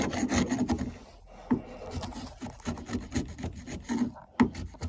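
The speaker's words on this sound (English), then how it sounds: "tidy these up like that with a chisel. Just get the edges." Edges of a resin casting trimmed by hand with a chisel, giving close, irregular scraping and rasping strokes in short bursts.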